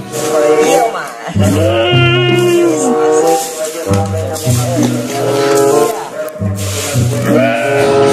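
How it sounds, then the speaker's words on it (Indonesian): Sheep bleat loudly and close by in three bursts of drawn-out, wavering cries separated by short pauses. "ada seekor domba"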